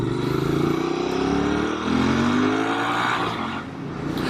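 Royal Enfield Bear 650 parallel-twin motorcycle riding through town traffic, its engine droning steadily and close with rising and falling pitch as it accelerates, with no voices.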